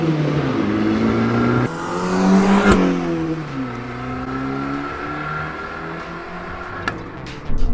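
A 2010 Abarth 500 turbo four-cylinder engine revs hard with rising and falling harmonic pitch sweeps, loud and close, a sharp pop partway through, no talking.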